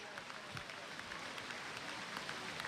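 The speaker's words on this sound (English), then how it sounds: "A nice round of applause for our young ones from Kahawiki Village." Scattered applause from an audience at a Hawaii State Budget hearing for young ones from Kahawiki Village, a soft steady patter of clapping heard from a distance.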